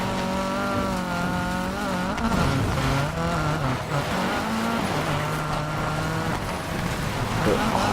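A Volvo Amazon drifting in the racing game Need for Speed Payback: a continuous loud engine drone with shifting pitch as the revs rise and fall, with tyre squeal through the slide.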